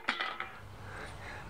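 An aluminum frying pan handled in a workshop, giving a few sharp metallic clanks in quick succession near the start, then a low steady hum for the rest.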